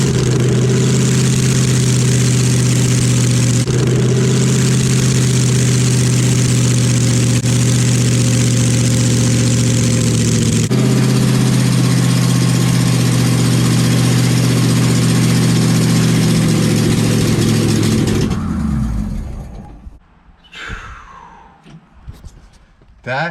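A Hellcat V8 swapped into a Nissan 350Z runs loudly with no proper exhaust, a harsh steady roar for about eighteen seconds before shutting off, followed by quieter clanks and brief noises.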